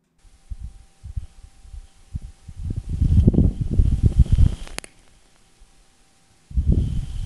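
Wind from a dust devil passing a rover on Mars, heard as low, buffeting rumbles that swell into a sustained gusty roar, drop away to near silence, then return in a final burst.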